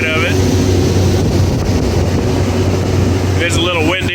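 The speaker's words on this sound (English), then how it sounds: "You can see the fans turning up inside of it." Fans inside a rebuilt Clipper Super 68 D wooden seed cleaner run with a steady close whir and hum, mixed with wind noise, and a voice briefly joins near the end.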